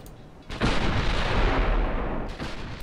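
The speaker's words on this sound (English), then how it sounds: "I already got hit by a 17 inch shell" A 17-inch naval shell striking a warship in the naval combat game Ultimate Admiral: Dreadnoughts lands as one sudden loud boom, followed by a heavy broadband roar that lasts about two seconds before easing off.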